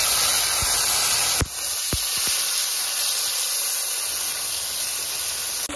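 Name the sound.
ginger cumin paste sizzling in hot oil with spices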